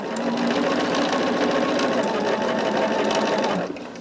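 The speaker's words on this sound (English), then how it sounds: "Let me see if I try to sew it from the back side of it" A sewing machine stitches the seam of a cotton quilt, running steadily and close for nearly four seconds before stopping abruptly, with no talking over it.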